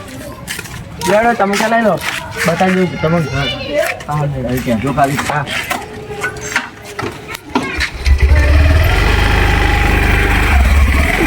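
An Activa motor scooter engine starts up and idles loudly near the end, after stretches of people talking close by.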